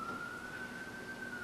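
A steady ambulance siren tone holding near one pitch and slowly rising, heard at a distance under low background rumble, continuous throughout with no talk.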